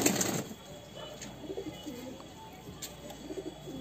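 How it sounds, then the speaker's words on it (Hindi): Dark green short-beaked pigeons cooing softly in a loft, low repeated coos in short bursts at close range, with faint background noise and a brief rustle at the start. "ये देखिए कबूतर"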